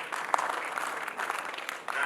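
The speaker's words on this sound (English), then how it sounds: "let's give a young panelist a big round of applause" An audience at a panel discussion claps for a young panelist, a short burst of steady, moderately loud applause from a room full of people.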